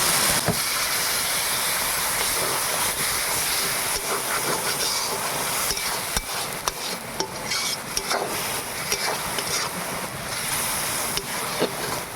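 A little water goes into fried spice paste in a hot pan while cooking fish roe curry. It produces a loud, steady hiss of sizzling steam with scattered faint crackles, and no voices are heard.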